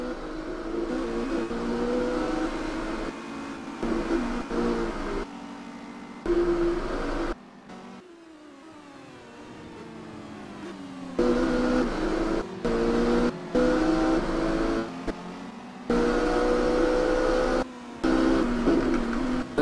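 Racing cars drive around a circuit in a racing video game, engines droning and whirring steadily with shifting pitch, rising and falling through gear changes and corners, interrupted by brief quiet gaps.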